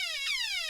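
Descending electronic tone effect from a Radio Shack Astro Magnum toy, the Thorpe sound: a bright, buzzy alarm-like sweep that slides downward in pitch, close and steady, with no talking.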